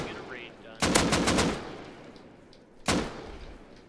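Automatic rifle fire in the Rust survival game, a rapid burst of several loud close shots followed by a single sharp shot after a pause.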